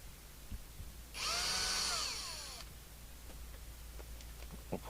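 A small drill bites briefly into a CB radio front panel lug, giving a short whining burst of under two seconds at moderate level before quiet handling noises.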